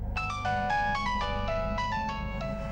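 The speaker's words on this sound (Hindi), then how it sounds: "टीनू का फोन" A bright melodic phone ringtone chiming in quick repeated notes, moderately loud over a low hum, with no talking.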